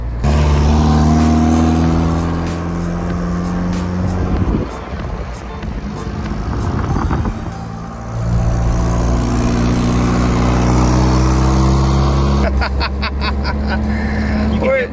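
Twin-turbo Honda Civic accelerating through second gear, a loud engine drone with harmonic tones rising in pitch, a brief dip during the shift, then a renewed climb with sharp clicks near the end; a voice speaks over parts of it.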